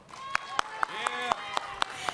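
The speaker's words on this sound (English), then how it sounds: "Now let me hear you clap it if you want to be here." Students at a parent and youth education town hall clap in unison, a steady rhythm of sharp claps about four per second, with crowd voices underneath.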